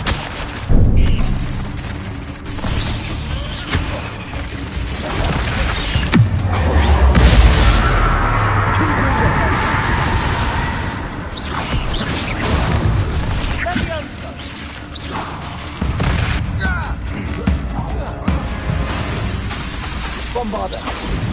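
Booming blasts from the Bombarda and Confringo explosion spells in a video game, heavy thuds and bursts landing in quick succession over a continuous rumble, while a player calls out over the action.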